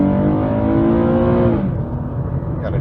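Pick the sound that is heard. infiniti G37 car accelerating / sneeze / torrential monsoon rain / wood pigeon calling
infiniti G37 car accelerating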